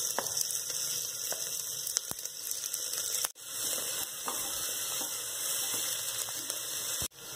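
Chopped onions go into oil with whole spices for chicken curry, producing a steady hissing fry with light scraping and a couple of sharp knocks, no talk.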